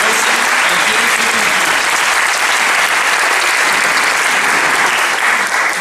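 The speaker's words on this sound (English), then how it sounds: "One more big round of applause for our special guests" Dense, sustained applause from a large audience welcoming special guests at a grand opening ceremony, a loud continuous wash of clapping that holds steady for several seconds.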